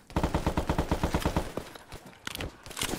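Rapid automatic gunfire in the military shooter Arma, a quick rhythmic burst of close shots that breaks off into scattered single cracks and movement noise.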